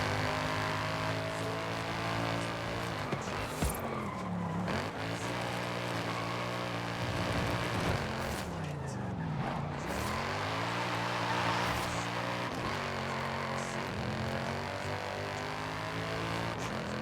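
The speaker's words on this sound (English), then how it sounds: "That nice roar of the engine." A video game car engine roars steadily and loudly throughout, rising and falling in pitch as it revs and shifts through gears, with no voices.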